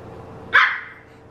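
A dog gives one sharp, fairly close bark, a short burst rising out of quiet household background noise.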